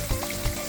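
Gravy cooks down in a pan with a soft, steady close sizzle and faint bubbling across a brief moment.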